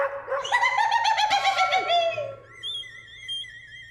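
A dog gives a short run of loud, close barks and whimpering yips, fading into higher, bird-like chirps near the end.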